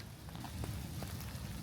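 Steady rain falls at a shelter along a walking trail, a continuous dense patter of drops on the surface with a few sharper taps, close and even throughout, no voices.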